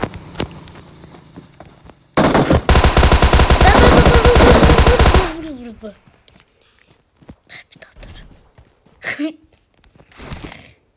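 Rapid automatic gunfire from a PUBG match bursts loud and dense for about three seconds, then gives way to scattered clicks, footsteps and short thuds while a player talks quietly.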